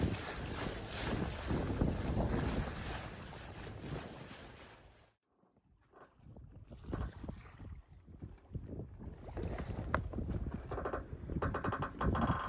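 Sailboat running under mainsail and jib in 15 to 19 knots of wind off Koh Phangan, Thailand: steady loud wind buffeting and rushing water along the hull, a brief lull partway, then the gusting and splashing build again.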